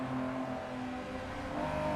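A Datsun 240Z in the Assetto Corsa EVO racing game holds a steady engine drone with a slight pitch shift, faint and continuous, with no talking over it.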